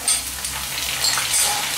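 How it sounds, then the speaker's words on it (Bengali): Tomatoes go into a pan of frying potatoes, and a continuous close, crackling sizzle of hot oil fills the short moment. "এবার আমি এই যে আমার টমেটো আছে, দুটো টমেটো আছে, এগুলো আমি দিয়ে দেবো।"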